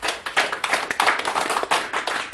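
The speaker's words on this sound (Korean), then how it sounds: "박수 부탁드리겠습니다." An audience claps at a Korean poetry gathering marking a book launch, a brisk, dense burst of hand claps sustained throughout without voices.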